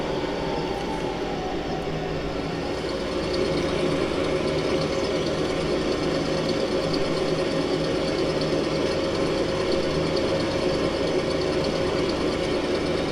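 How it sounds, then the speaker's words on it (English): Farming Simulator 25 tractor engines and farm machinery running together, giving a steady, dense mechanical drone with constant engine rumble throughout, loud and unbroken with no voices. "It's always nice to hear the tractors roaring and all the belts spitting stuff out."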